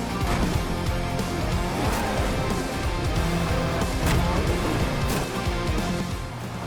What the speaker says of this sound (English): A time attack mode where you drive through destructible checkpoints to extend your time.